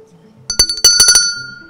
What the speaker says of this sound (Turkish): Mavi masa zili önce çaldı.